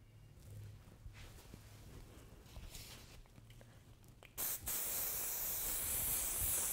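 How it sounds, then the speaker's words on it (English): After quiet rustling, a hairspray can releases a long, steady hiss that continues to the end, close and loud. "spray the hair down a little bit"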